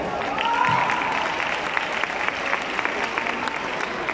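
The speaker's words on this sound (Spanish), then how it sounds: "Por favor, un fuerte aplauso para él." Applause from an audience at a ceremony where a speaker is given a recognition, in San Francisco del Rincón: a steady wash of many hands clapping that holds for about four seconds without fading.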